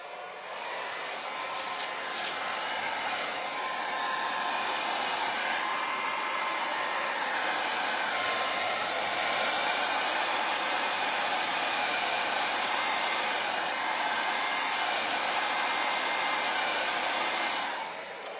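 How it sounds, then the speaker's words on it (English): A blow dryer runs steadily over poured acrylic paint, a loud, constant airy whoosh that switches on and holds at an even level for nearly the whole stretch before cutting off at the end. "Get the blow dryer going."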